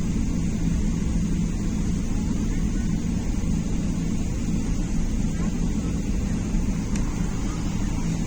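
A steady, low roaring drone of aircraft passing overhead, continuous and fairly loud throughout, with no pauses.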